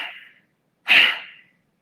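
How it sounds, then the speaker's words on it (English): Kapalabhati yoga breathing with forceful nasal exhalations: a fading breath at the start, then one sharp, close, loud puff of air through the nose after a short pause. "We forcefully exhale through the nose by pushing the diaphragm in,"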